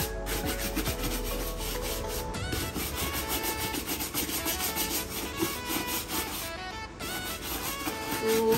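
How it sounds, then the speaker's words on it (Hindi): Shoes being polished by hand, a steady, fast back-and-forth rubbing and brushing in short repeated strokes, close and fairly quiet, continuing without pause and with no talk. "तो चलिए अब हम कर लेते हैं अपने शूज़ को पॉलिश अच्छे से"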